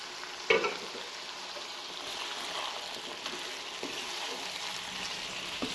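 Spices sizzling and frying in a pan of chicken curry with potatoes and peas, with scraping stirring strokes and a sharp clatter near the start over a steady close-up hiss.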